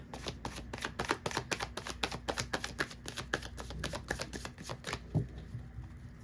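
Tarot cards being shuffled by hand, a fast run of crisp riffling flicks in steady rhythm, close and alone with no talk, ending with a brief softer settle.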